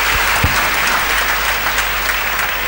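Sustained applause from a church congregation during a homily, steady dense clapping filling the room with no talk over it.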